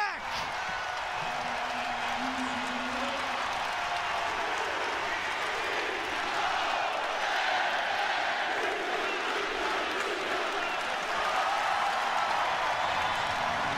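A basketball crowd in a Central Florida arena cheers and roars continuously throughout, loud and sustained, while a commentator talks over it.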